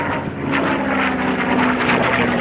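Propeller aircraft flying at an airshow, a restored warbird, producing a loud, steady engine drone with a sustained tonal hum that stays close and continuous throughout, with no talk.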